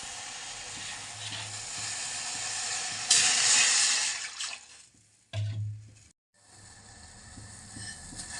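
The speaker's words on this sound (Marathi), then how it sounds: "चहा उकळायला लागलाय" Tea with ginger boils in a pot on a home stove, giving a steady hissing, bubbling sizzle that swells loudly for a moment, drops out briefly, then resumes, with no talk.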